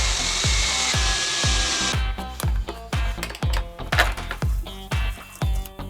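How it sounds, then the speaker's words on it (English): A power drill whirs briefly into a wooden 2x board, then a run of sharp, close knocks and taps follows at an uneven pace. "We'll drill some holes in there and mount this onto that 2x."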